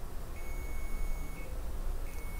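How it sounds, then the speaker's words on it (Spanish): Distance sensor alarm beeping as an object comes within ten centimetres, a thin steady electronic tone sounding twice in long beeps over a constant background hiss. "cuando está a 10 centímetros o menos de 10 centímetros, se va a activar la alarma"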